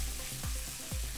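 Roasted root vegetables sizzle in a hot pan, a steady close frying crackle with a couple of stirring scrapes.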